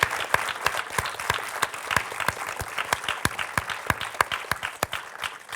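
A crowd applauds a group of children, dense clapping in steady rhythm from many hands at close range, holding at an even level throughout without pause.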